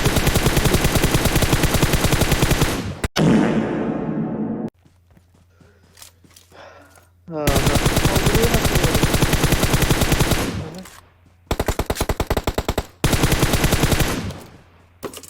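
Long, loud bursts of rapid automatic gunfire in PUBG Mobile, cut by short pauses where faint footsteps and game sounds come through, with players chattering in the background.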